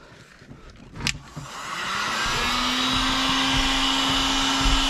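Heat gun blowing hot air steadily onto ceramic window tint at the rear glass of a 2006 Ford Escape, a continuous close whoosh with a faint motor whine that starts after a brief knock and then holds.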